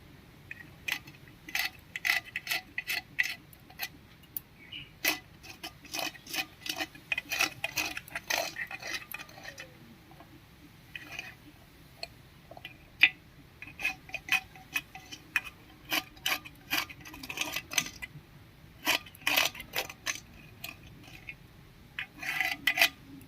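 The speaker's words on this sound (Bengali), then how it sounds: "নিয়েছি একটা পেরে এটা দিয়ে দাগ কেটে নেবো" A nail scratches a circle line onto a clay pot, producing irregular bursts of sharp, close scraping clicks and rasps with short pauses between strokes, no voices.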